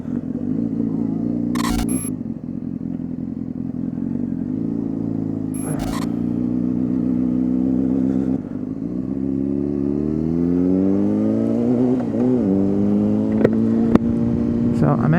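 A Honda CBR600RR sport bike roars under heavy wind buffeting while riding, recorded on a Zoom H1N, with the engine pitch rising steadily as it accelerates and brief clicks cutting through.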